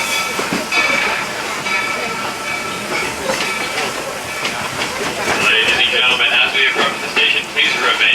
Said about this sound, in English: thanks for traveling with us on the Walt Disney World Railroad